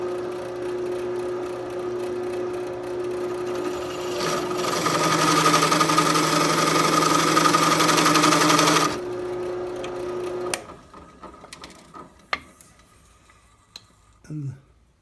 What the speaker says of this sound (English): to countersink that, I'm just using a larger diameter metal bit